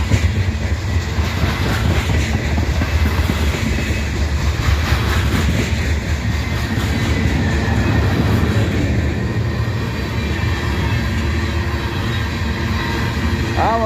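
A long freight train rolls through Abbeville, South Carolina, loud and close, with continuous rumble and rhythmic clickety-clack of wheels over rail joints, steady throughout.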